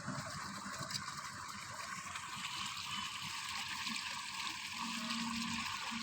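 Rice is washed by a child in a vessel of water, giving a soft, continuous sloshing and trickling sound, faint and close, with no talking.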